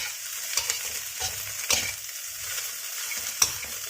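Fried rice with salted fish stirred in a hot pan, steady sizzling under repeated scraping strokes of a utensil, close and continuous, with no voices.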